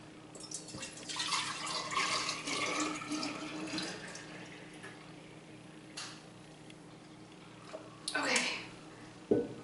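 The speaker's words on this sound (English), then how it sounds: "pour the juice that I had put in my big canner into a half-gallon jar" Chokecherry juice poured from a big canner into a half-gallon glass jar, a steady liquid stream with splashing and faint drips, rising and falling in bursts, with some background noise.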